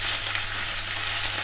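Potato dough springs fry in vegetable oil in a pan, giving a steady, close, bright sizzle with constant crackling and no pauses.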